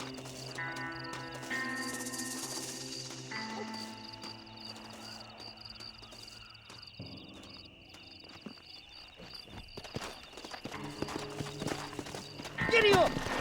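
Horse hooves clip-clopping in the Western video game Red Dead Redemption, a steady rhythmic trot under a sustained musical score, with voices speaking over it.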